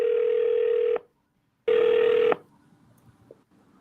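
Telephone tones sound twice in a call: a long steady tone of about a second, a short pause, then a second similar tone, with faint room noise afterward.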